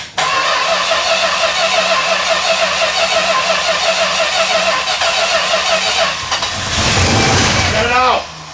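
A 1969 Plymouth Road Runner engine, started after sitting for 40 years, runs loud and close with a rough, steady drone, then surges and sputters near the end.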